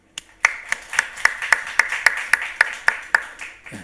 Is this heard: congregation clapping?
yes